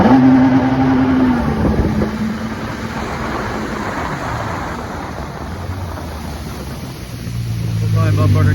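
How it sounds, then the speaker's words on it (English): A Yamaha HO 1.8 jet ski running on only two cylinders accelerates with pump cavitation. Its engine roar is loud and steady, mixed with wind buffeting, dips in the middle and climbs again near the end. "you'll hear when I accelerate. I notice it's got a good bit of cavitation"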